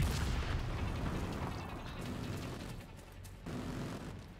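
Gunfire in the shooter game The Division 2, aimed at the players: dense, continuous crackling bursts and booms of combat that stay loud throughout with no clear gaps.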